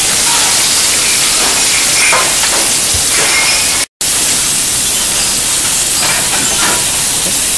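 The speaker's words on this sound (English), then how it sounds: "He's going to let that saute for a couple minutes till it gets golden brown" Dover sole sautes in a pan with a loud, continuous hissing sizzle heard up close, broken by a brief dropout in the middle.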